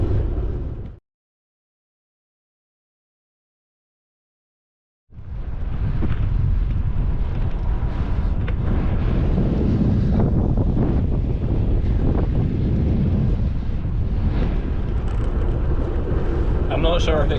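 Wind rushes across open fields while a cyclist rides through the French countryside, a brief burst of buffeting, then about four seconds of silence, then a long, loud, steady roar of gusts.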